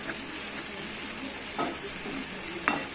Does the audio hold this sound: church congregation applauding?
no